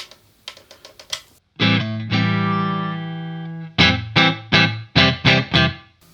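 Electric guitar played through a Zoom 505ii effects pedal on a room reverb setting: a few muted plucks, a sustained distorted chord, then a string of short punchy strummed chords, each with a brief tail.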